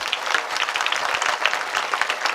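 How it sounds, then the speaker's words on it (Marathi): A crowd claps along at a devotional harinam saptah gathering in a village in Maharashtra, bright and fairly rhythmic, a dense patter of hands that holds steady throughout. "जरा जोरात वाजत टाळी."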